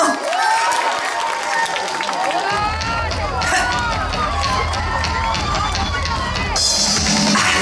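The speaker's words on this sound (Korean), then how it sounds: "박수 많이 주세요" Concert crowd at an outdoor town-square song festival, a dense roar of cheering and applause that swells and stays loud throughout, with voices shouting and singing over it.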